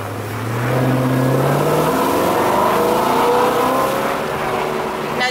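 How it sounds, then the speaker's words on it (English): BMW E93 M3 convertible with a V8 engine revs up, the raw note climbing steadily in pitch from a low drone into a loud sustained roar, then easing slightly, no talk. "that V8 engine has a really nice raw sound"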